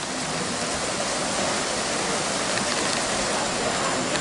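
Steady, dense rain hiss fills the space at a train station beside a tunnel, a constant wash of falling water heard alone with no voices.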